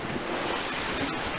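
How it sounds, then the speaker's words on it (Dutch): Steady wind gusting over the water and surf washing around a sailboat out sailing in the rain at about force 3, a continuous broadband rush that fills the clip with no talking. "het waait windkrachtje 3"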